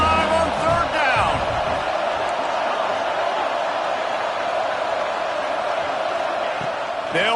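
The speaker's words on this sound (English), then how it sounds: "the Buckeye crowd alive on third down" Ohio State Buckeye football crowd roaring in a packed stadium on third down against Hofstra, a sustained loud wash of cheering and whooping that stays steady throughout, with a commentator talking over it.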